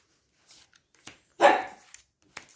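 Dogs at a home bark in a few short, separated bursts, with one louder, fuller bark near the middle and fainter yips around it, no talking.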